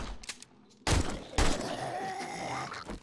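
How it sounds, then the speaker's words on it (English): AK rifle gunfire in the zombie survival game 7 Days to Die, two loud close shots a half-second apart cutting through a busy background of game ambience. "When the shotgun needs a reload, we pop out the AK."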